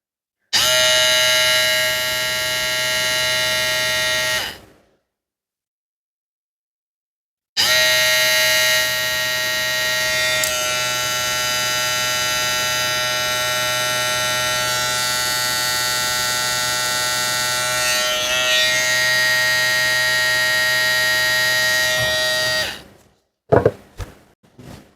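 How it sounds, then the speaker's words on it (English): A LILIPRO L4 rotary tattoo machine with a brushed motor runs with a steady, high-pitched electric buzz rich in whining overtones, stopping briefly after a few seconds, then resuming and humming evenly for a long stretch before cutting off. "it's not a brushless motor, it's a brush motor, a rotary motor."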